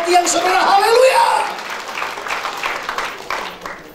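A church congregation claps in applause during a Sunday service, a loud burst of clapping mixed with voices that fades after a couple of seconds into scattered claps and murmuring.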